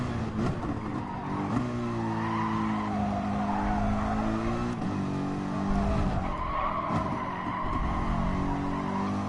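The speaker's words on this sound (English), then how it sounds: "Sim Racer shocks the world by rotating a car with the clutch." A race car in the GT Sport video game skids as it is rotated with the clutch, a loud continuous tire squeal over steady engine drone that wavers and shifts pitch for several seconds.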